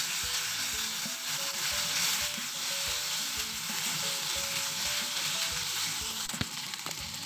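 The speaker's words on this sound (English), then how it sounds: "add thinly sliced garlic, 2 pods, and some green onion stems and fry" Thinly sliced garlic and green onion stems frying in a pan with soy sauce and oyster sauce for Chinese oyster sauce chicken, a loud steady close sizzle with a few stirring knocks underneath.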